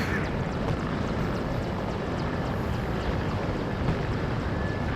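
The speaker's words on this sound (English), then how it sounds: "So then we move the helicopter back." Helicopter flying in the Warno video game, a steady, dense rotor and engine roar that stays loud and unbroken throughout, with no talk.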